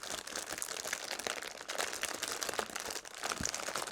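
Gentle crinkling of packaging from an autumn and Halloween haul, soft close rustles and crackles continuing irregularly throughout at low volume.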